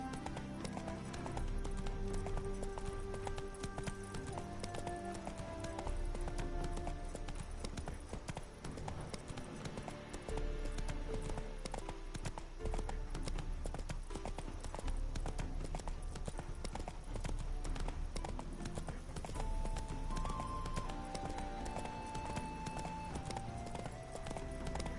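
Roach the horse galloping in The Witcher 3, hooves clip-clopping in a steady rapid rhythm over continuous game music and ambience, loud and sustained throughout.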